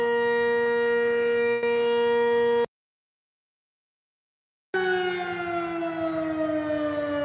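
A civil defense emergency siren wails across a US city with a steady, loud, sustained tone that cuts out for about two seconds, then resumes and slowly falls in pitch.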